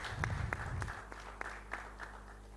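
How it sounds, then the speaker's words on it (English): Faint, thin applause from a small audience at a Nigerian architects' anniversary celebration and general meeting in Abuja, sparse separate claps heard at a distance over a low hum. "let's give him a warm round of applause"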